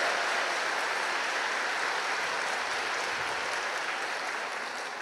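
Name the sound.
audience applauding for Jesus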